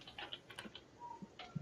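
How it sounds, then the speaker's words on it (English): Keys tap on a computer keyboard during an online call, light irregular clicks that stay faint and distant against quiet background hiss. "can you mute while you're typing"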